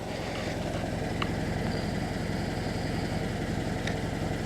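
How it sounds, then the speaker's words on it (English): A 2014 Subaru BRZ Limited idling with its quiet exhaust, giving a steady, low, even engine hum that stays constant and subdued throughout with no revving. "the car is running right now, and unless you rev it up, you can barely hear it"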